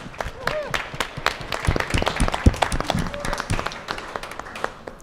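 Audience applause at a candidates' forum for a California Assembly district, a dense, steady wash of many hands clapping with scattered voices mixed in throughout.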